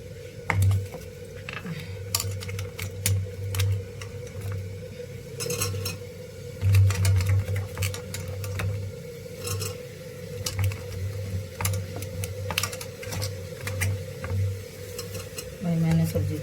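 Vegetables tempered (chhaunk) in a pan give a steady low sizzle with frequent clinks and scrapes of stirring, close and continuous, with occasional voice in the background.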